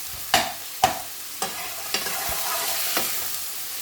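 Onions frying in a pan for fish bhuna sizzle steadily over medium heat while a utensil scrapes and stirs, giving several distinct knocks and scrapes at a loose, uneven rhythm, close and moderately loud.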